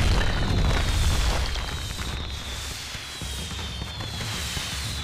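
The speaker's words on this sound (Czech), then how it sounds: "toto bude pekná explózia" A large explosion in the video game Max Payne 3 booms out with a deep, rumbling low-end roar that stays loud for several seconds and then settles into a sustained, fading rumble.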